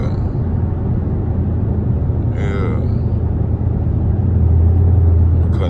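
A supercharged Dodge Durango with a 6.4 engine and Whipple blower rumbles low and steady nearby, swelling louder toward the end, with a voice talking over it.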